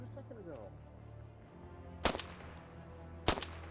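Two sharp handgun shots in a video game ring out about a second apart, each one a loud, crisp crack with a quick echoing tail over a quiet ambient bed.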